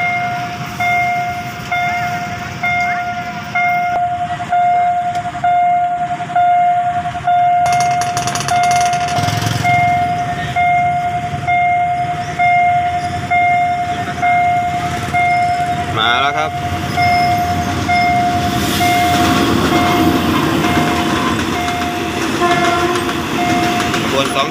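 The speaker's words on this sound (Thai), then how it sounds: "ตอนนี้จะมีขบวนรถไฟขบวน278นะครับกบิลบุรีกรุงเทพนะครับกำลังจะผ่านจุดตัดรถไฟหน้าค่ายจักรพงษ์นะครับ" Ordinary passenger train no. 278, Kabin Buri to Bangkok, rolls past a level crossing near Prachin Buri station on a holiday morning, with a steady crossing bell ringing, a horn blast and rhythmic wheel clatter, loud and close throughout.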